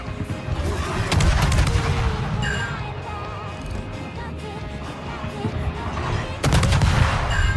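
Naval gunfire and explosions in the World of Warships game, with HE shells and torpedoes from a Le Hardi destroyer. Loud, dense booms and crashing blasts run continuously, with heavy hits near the start and end.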